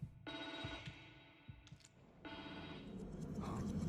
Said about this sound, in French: c'est quoi ce téléphone?